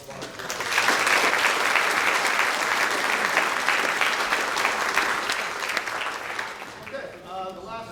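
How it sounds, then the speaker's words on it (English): A middle school band concert audience claps loudly and steadily for several seconds, the applause swelling quickly and then fading out near the end. "So how about a round of applause for that?"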